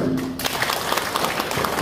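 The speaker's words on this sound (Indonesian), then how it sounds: "coba sekarang tepuk tangan lagi deh." Applause from an audience at a church fellowship gathering, a dense, loud clapping that starts abruptly and carries on evenly for a couple of seconds.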